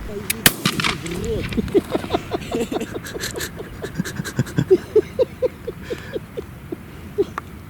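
A single sharp gunshot cracks out near the start, followed by a long run of rhythmic, panting-like breaths over quiet outdoor background.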